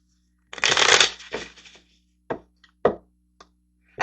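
Tarot cards riffled and shuffled in a close, loud burst lasting about a second, followed by a softer shuffle and then several separate crisp snaps and taps as cards are drawn and laid down.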